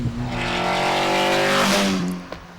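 A TVR Cerbera sports car engine revs hard and loud, a rich sustained roar climbing in pitch for about two seconds before dropping away, heard alone with no talk.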